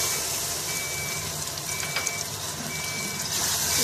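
Chopped onion with ginger-garlic paste fries for a mutton malai handi, producing an even, dense sizzling hiss that stays close and unbroken throughout.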